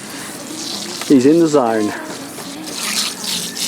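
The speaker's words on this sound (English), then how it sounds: "So here's another great extra that we added, an outdoor shower." An outdoor shower on a Zone RV 20.6 Base Touring caravan runs with a steady spray of water, while someone speaks briefly over it near the start.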